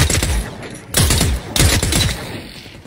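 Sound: gunfire in the video game The Cycle

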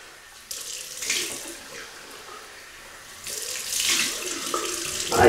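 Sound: water running from tap, rinsing face

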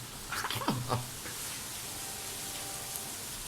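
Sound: rain falling

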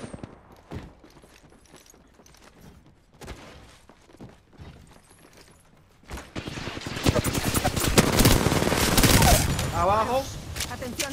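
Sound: gunfire in the video game Apex Legends

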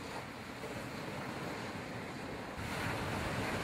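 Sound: ocean waves on Cozumel shore

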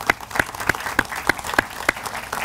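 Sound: applause

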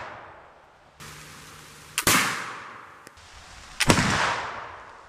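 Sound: flintlock rifle shot fired in the rain

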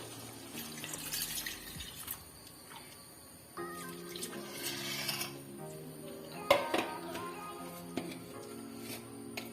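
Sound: pouring coconut milk into potato curry

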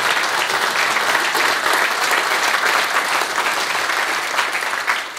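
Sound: audience applause for guest Mies Bram

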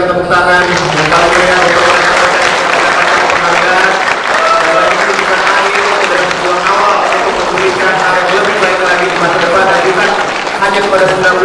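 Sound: audience applause at award ceremony

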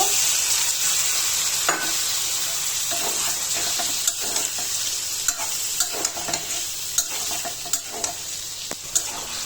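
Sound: spices frying with potatoes and pointed gourd

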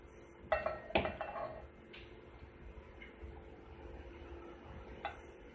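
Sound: muskmelon pieces being put into a blender jar

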